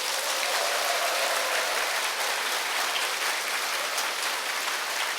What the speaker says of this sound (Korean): 큰 박수 한번 보내드리겠습니다.